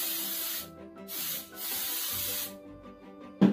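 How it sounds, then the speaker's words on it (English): A spray can hisses a second coat onto a pink and white craft in several long bursts separated by short pauses, close and fairly loud, ending with a brief clatter. "Remember to always shake before you spray."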